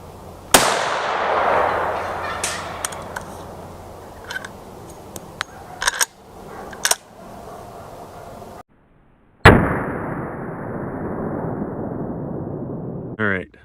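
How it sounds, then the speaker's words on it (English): A 95 grain G9 10mm round fired from a 12 gauge caliber adapter into ballistics gel gives one sharp, loud report at the start that decays into a ringing tail, followed later by another burst of noise. "I'm going to put one more round of the 95 grain G9 through the gel here"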